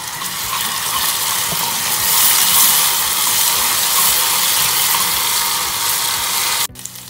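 Steady broadband sizzle of water hitting a hot frying base for tiebou, a Senegalese rice dish, hissing loudly and evenly before cutting off sharply near the end.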